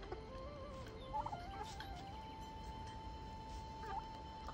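A turkey and chickens in a Nepali village yard call with warbling, clucking notes, fairly close over a steady outdoor background.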